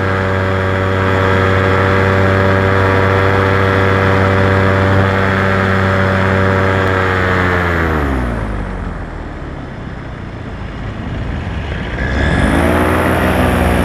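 Paramotor engine droning loudly and steadily during banked low flight, then the throttle eases off and the pitch sweeps down into a quieter, airy lull before the engine revs back up near the end.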